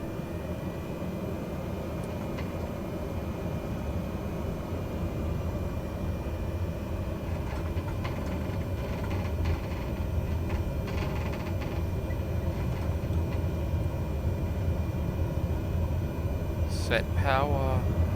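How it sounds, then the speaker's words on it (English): Turboprop engines spool up to takeoff power on a light airplane, a steady loud broadband roar with a droning propeller hum that holds constant and builds slightly, under faint cockpit talk. "Set power for takeoff"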